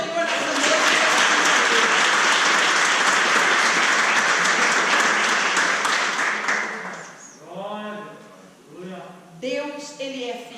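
Congregation applauding during an evening church service, a loud, sustained wash of clapping that fades after about seven seconds into a preacher's voice speaking over the last scattered claps.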